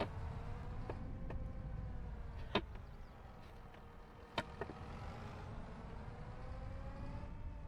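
A nearly empty bus driving along a road, heard from inside as a steady low engine and road rumble with a couple of brief knocks or rattles, no talking.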